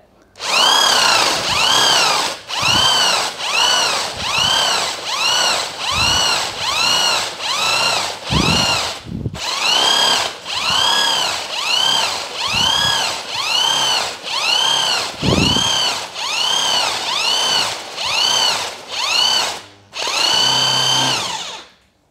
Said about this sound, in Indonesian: kita coba tes sekali lagi, satu lubang lagi